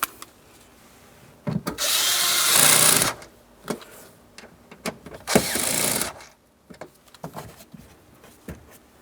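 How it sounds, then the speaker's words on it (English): Two Phillips head screws being driven back into a plastic interior trim panel of a 2008-2016 Chrysler minivan, with two longer bursts of whirring and rubbing under short clicks and handling knocks, close and fairly loud, no talk. "we had two Phillips head screws. Go ahead and reinstall those."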